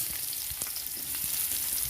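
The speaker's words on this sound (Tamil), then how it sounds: "இப்போ வெங்காயமும் வரமிளகாவும் நான் நறுக்கி வச்சுருக்கேன்," Chopped onion and dried red chillies sizzle and crackle steadily in hot oil in a pan, a close, continuous frying hiss with small pops, no voices.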